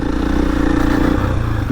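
Husqvarna FE 501 four-stroke enduro motorcycle climbing uphill, a loud, steady big-bore engine drone with rough mechanical clatter and a slight drop in pitch near the end, heard close.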